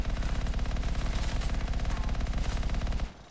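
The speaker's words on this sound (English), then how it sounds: "I'm gonna shoot you." Sustained rapid gunshots from a weapon in the game Anthem, a loud, steady automatic stream that keeps going without pause and then stops abruptly near the end.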